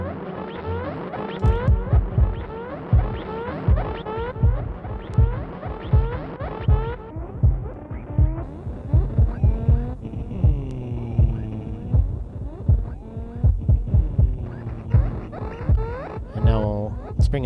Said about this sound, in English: So let's just bring in the kick drum really quick.